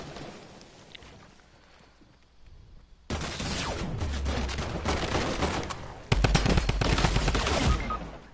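Sustained heavy automatic gunfire in a video game firefight, a quieter stretch giving way to loud continuous bursts that intensify further toward the end.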